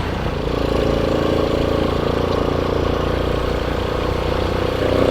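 A 2004 Suzuki Smash motorcycle, an older bike, runs with a loud, steady engine drone at a constant pace, with no talking over it.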